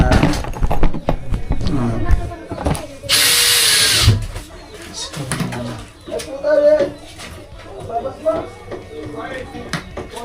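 Cordless power drill driving screws into the side of a house under repair, one loud burst of whirring near the middle amid scattered knocks and handling noise, with people talking nearby and birds or pigeons audible in the background.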